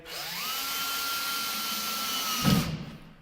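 A power drill drives a drywall screw, a steady rising whine that holds for about two seconds, ending in a short clunk as the countersink bit skips off and the motor winds down.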